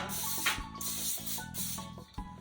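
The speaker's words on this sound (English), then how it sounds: "I think I'm going to spray it, do it with the olive oil" A spray of olive oil mists onto parchment paper laid down for a cookie sheet, a few short close hissing bursts separated by brief pauses.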